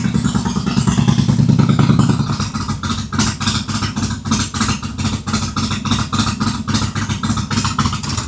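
A 2006 Harley Dyna motorcycle with a new header idles while warming up, its loud, steady lumpy rumble with rhythmic pulsing exhaust beats running close and continuous throughout, a little louder at first before settling into an even idle.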